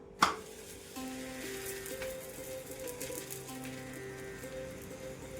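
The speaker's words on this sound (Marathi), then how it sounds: "तवा गरम झाला की गॅस कमी करायचा आणि पराठा टाकून घेते मी आता" A methi paratha dropped onto a hot tawa over lowered gas gives a soft thump, then a steady, quiet sizzle that carries on evenly under a faint background hum.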